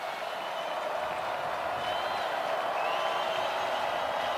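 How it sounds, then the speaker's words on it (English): A big stadium crowd at a college football game between Washington State and James Madison makes a steady, dense roar of cheering throughout, distant and unbroken, with faint voices in it. "Crowd getting into it."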